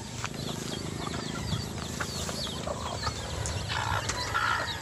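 Hens and chicks on a farm, repeated clucks and chirps close by over a steady rustling background, with a faint voice now and then.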